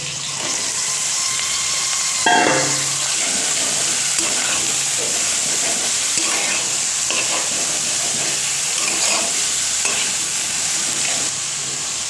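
Chopped greens tossed into hot fish oil sizzle and hiss loudly and steadily, with a sharp burst as they hit the pan followed by repeated scraping stirs.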